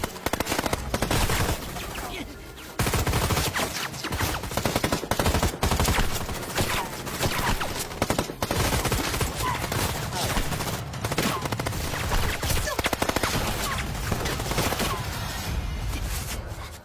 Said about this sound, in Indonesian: Dan setelah itu, baku tembak pun terjadi lagi